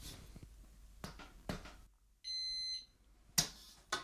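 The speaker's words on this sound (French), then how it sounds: "l'alarme, elle se met en route" XENA XX15 Bluetooth SRA motorcycle disc lock alarm blaring a loud, steady, high electronic tone for about half a second, set between sharp handling clicks and knocks.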